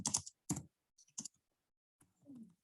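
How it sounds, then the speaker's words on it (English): Short bursts of computer keyboard typing, with clusters of quick clicks separated by brief pauses, fairly quiet and close, with no talk over them. "Excuse my typing."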